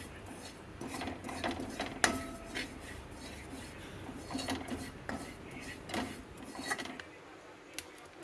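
Poppy seeds dry-roasting in a pan while making dry fruit laddu, heard as steady scraping and clinking of a spoon against the pan with small metallic taps throughout, close and fairly quiet.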